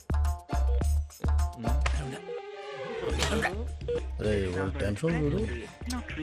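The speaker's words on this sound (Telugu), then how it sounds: "ఈ ఫోన్ ఒకటి కలుస్తలేదు" A telephone keypad is dialed in a short run of loud, evenly spaced touch-tone beeps, followed by voices talking after the dialing stops.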